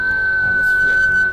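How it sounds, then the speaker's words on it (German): A shrill, steady whistling tone in the Path of Exile video game, sustained at one pitch for over a second under faint background game sound. "Das Pfeifen. Boah, das so. Ist übel im Ohr."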